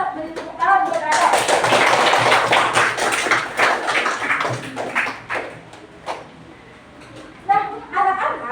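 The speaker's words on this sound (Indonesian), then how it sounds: "Beri tepuk tangan buat Anda." Classroom applause for a third-grade student, a burst of children clapping loudly for several seconds, with a teacher and kids talking before and after.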